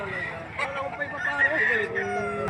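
Sweater gold rooster, nine months old, crowing amid the bustle of the Padre Garcia livestock auction in Batangas, its drawn-out call rising over crowd noise while people talk nearby.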